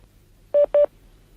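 Two short DTMF keypad tones dial in quick succession as a call is transferred between phone extensions, each beep clear and steady over a faint background hum.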